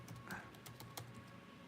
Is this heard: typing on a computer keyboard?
yes